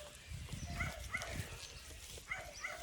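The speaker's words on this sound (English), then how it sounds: "in the background, you can hear my sausage dogs barking" Small dachshunds bark in the background, a few scattered yaps, faint and distant against quiet outdoor ambience.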